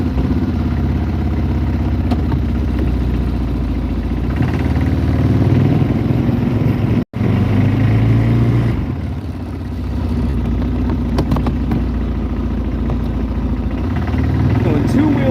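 A vehicle engine cranks and runs while being driven over a soybean field, a loud mid-range rumble with clatter and a brief cutout partway through, with someone talking over it.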